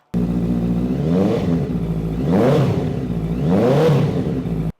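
A 2017 Honda CBR650F motorcycle engine with an aftermarket exhaust revs up three times, each rev rising in pitch and then falling back to a throaty idle, loud and close.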